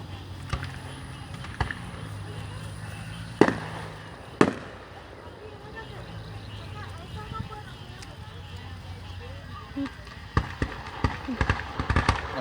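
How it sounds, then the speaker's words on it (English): A fireworks show in Troy set to music, with sharp distant bursts punctuating a steady crowd murmur, a couple of loud pops early on and a flurry of crackling reports near the end, while people talk throughout. "it's playing a song and they shoot fireworks with the music"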